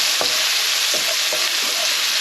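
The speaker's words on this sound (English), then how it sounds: "As you can see, they're really frying off now" Steady sizzling of mushrooms frying in a hot pan, with a few soft scrapes as they are stirred.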